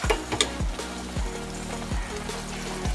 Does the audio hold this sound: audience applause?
no